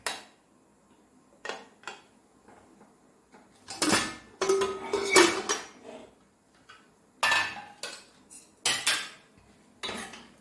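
A metal pressure cooker holding cooked chickpeas for a Kerala kadala curry is opened in a home kitchen: sharp metallic clanks and clinks of the lid, in scattered bursts, with quiet pauses between.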